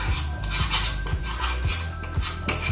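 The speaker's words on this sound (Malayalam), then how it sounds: "അപ്പൊ നമ്മളെ മിൽക്ക് പൗഡർ ആഡ് ചെയ്തിട്ട് നല്ലപോലെ മിക്സ് ചെയ്തെടുക്കാം." A milk powder mixture for milk peda is stirred in a pan, the spoon scraping and knocking against the metal in a steady, close rhythm of repeated strokes, with no talking.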